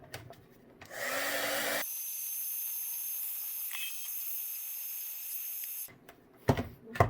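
A heat gun blows a steady whooshing, whining stream for several seconds while shrinking heat shrink tubing on wiring for a DIY lithium trolling-motor battery box, starting and stopping with handling clatter around it.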